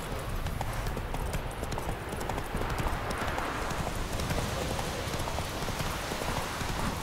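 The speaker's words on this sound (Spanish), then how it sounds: "este caballo debería de llamarse Rayo, tío" Galloping horse hooves clip-clop steadily in The Witcher 3, a dense, even rhythm running unbroken and fairly loud over a wide, noisy game soundscape with no pauses.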